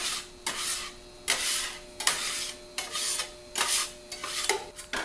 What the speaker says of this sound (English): Adding a little bit more oil and then spreading it out thin and wiping off any excess.